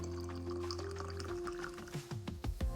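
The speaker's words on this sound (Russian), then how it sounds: "доливаю воду в банку, чтобы она была полная" Water pours into a glass jar for pickled tomatoes, the tone rising as it fills, followed by a few gurgles and glugs near the end; quiet and close.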